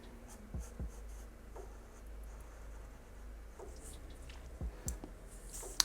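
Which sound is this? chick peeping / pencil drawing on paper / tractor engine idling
pencil drawing on paper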